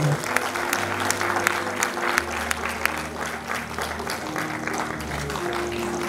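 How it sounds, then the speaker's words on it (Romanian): Sustained audience applause at a school centenary ceremony, dense clapping from a large crowd continuing steadily throughout, with a low amplified hum underneath. "Aplauze pentru dânsa"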